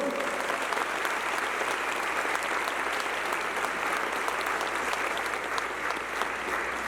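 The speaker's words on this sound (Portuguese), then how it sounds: "Você pode dar uma salva de palmas para o Senhor?" Continuous, even applause from a church congregation, a broad wash of many hands clapping at moderate level throughout, with no talk over it.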